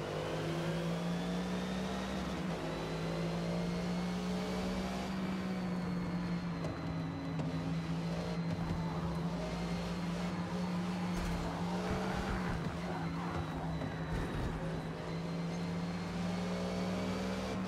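A Ferrari F50 races in an open A class event in Forza Motorsport, its engine holding a steady high-pitched drone with shifts in pitch, while tire squeal and skidding cut in during the middle and later stretches.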